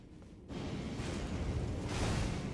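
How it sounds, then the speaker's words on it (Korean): A huge cannon fires in the Elden Ring DLC video game, bursting in after a quiet half-second into a loud, sustained rumbling blast that swells again near the end, with no talk over it. "내려가면은 엄청 큰 대포 있는데"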